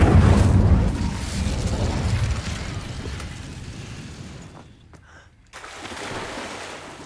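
In the Hogwarts Legacy video game, an Incendio fire spell goes off as a loud fiery burst that fades into a rushing roar, cuts out briefly, then returns as a lower rumble.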